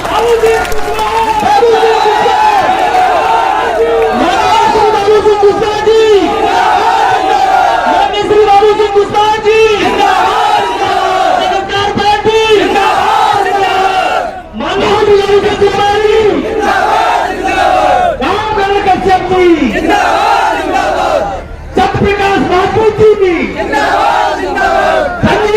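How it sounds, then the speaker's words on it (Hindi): A large crowd at a political rally in Etawah for Jan Adhikar Party leader Babu Singh Kushwaha cheers and chants loudly in dense, continuous waves, with only brief dips. "एक बार उनके सम्मान में जोरदार तालियां साहब"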